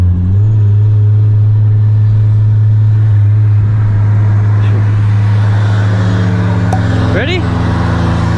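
A tuned 10th-generation Honda Civic Si accelerates hard from a 30 mph roll, its engine droning loud and steady with a rising rumble close by, while people talk over it.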